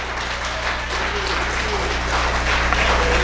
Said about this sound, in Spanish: Si va a darle fuertes aplausos, déselo a él.